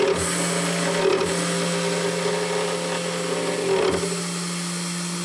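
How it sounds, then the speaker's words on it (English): A 3018 CNC milling machine with a ball screw setup cuts aluminum aggressively, a steady high whine with a harsh, chattering edge and a couple of brief changes in the cut, close and continuous, with no talking. "cutting some aluminum here on the new ball screw setup"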